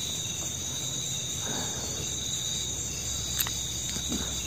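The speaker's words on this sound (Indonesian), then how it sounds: "Tapi emang baru jangkrik nih ya." Crickets chirp in a steady, high-pitched drone that fills the whole stretch of night air, continuous and fairly loud, with a brief faint voice rising once in the background.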